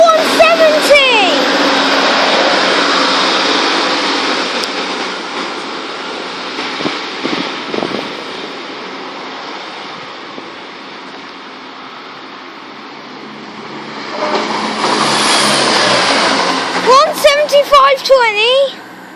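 A Class 170 diesel multiple unit passes through Spondon station with a loud, sustained broadband rush and engine roar that eases off and then swells again, with someone talking over it near the end.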